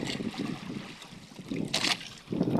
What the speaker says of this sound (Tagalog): yan talagang malalakas ang hangin at saka malalaki ang mga alon